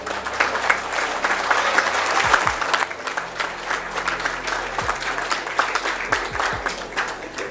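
An audience applauding at a motivational talk in a hall, dense sustained clapping from many hands, fairly close and loud, continuing steadily throughout.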